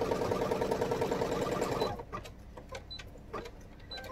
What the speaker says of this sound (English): I'm going to stitch step number 8